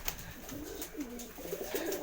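Pigeons kept for sale in a Bengali village loft give faint, soft cooing against quiet background hiss, with no one speaking.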